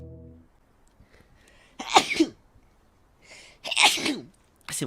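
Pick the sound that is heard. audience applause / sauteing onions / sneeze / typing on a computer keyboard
sneeze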